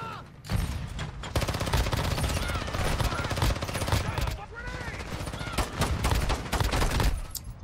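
MW3 guns fire in the Warzone Mobile shooter. Near, loud bursts of rapid automatic gunfire and overlapping shots fill the whole stretch, with brief gaps at the start and end.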